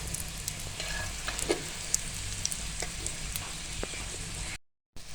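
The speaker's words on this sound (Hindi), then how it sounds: "ज़बरदस्त हमारे पराठे फ्राई हो रहे हैं" Potato parathas fry in ghee on a hot pan, a soft continuous crackling sizzle with scattered pops, fairly quiet and close, cutting out briefly near the end.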